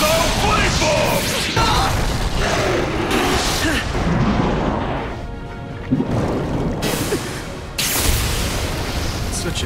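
A heavy anime fire-bomb explosion effect, rumbling booms and crackling bursts layered with a dramatic score, loud and close, with voices over parts of it.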